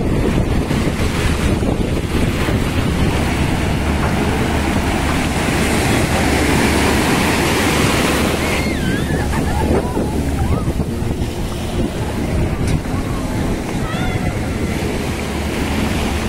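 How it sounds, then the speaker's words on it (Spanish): Strong ocean surf at Caleta beach in Acapulco roars continuously and loudly at close range, with heavy wind buffeting the microphone throughout and brief faint voices in the background. "Vean hasta dónde llegan las olas"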